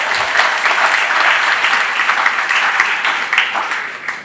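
Loud, close applause from the crowd at the Trempealeau County Fair opening ceremony, a thick, continuous wash of many hands clapping at a steady level throughout.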